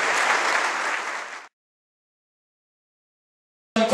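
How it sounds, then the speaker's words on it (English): Audience applause at a charity gala, a dense burst of clapping that ends abruptly after about a second and a half, followed by silence. "Big round of applause for Dr. Joe Clarke."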